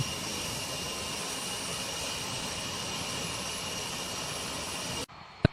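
C-5 Galaxy military transport aircraft jet engines roaring in a steady, loud, continuous whine and rumble, cutting off abruptly near the end.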